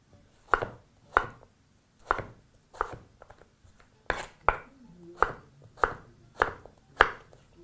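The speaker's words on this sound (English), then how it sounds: "proceed to do the same right up until you have all your potatoes completely chopped into strips" Knife chopping potatoes into strips on a cutting board for French fries, about a dozen crisp, evenly spaced chops close by with short pauses between, no talking.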